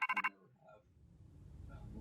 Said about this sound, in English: That's home phone.